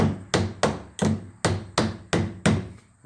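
Hammer tapping a shim to adjust an exterior door being set in its frame, seven sharp evenly spaced knocks about every half second, close and clear with no talk.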